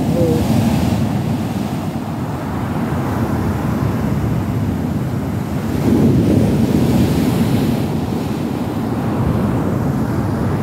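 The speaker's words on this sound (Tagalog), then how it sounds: "Oh, tingnan mo, alon, no? Grabe alon," Ocean surf rolls in with big waves on a windy shore, a loud continuous roar with wind buffeting the microphone and swelling surges.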